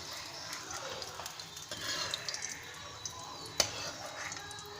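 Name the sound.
frying groundnuts in a pan for lemon rice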